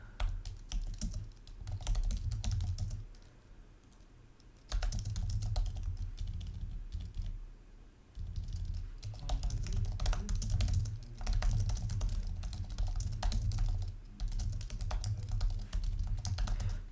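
Steady clicking of someone typing on a computer keyboard, in rapid bursts with a couple of short pauses, close and fairly loud.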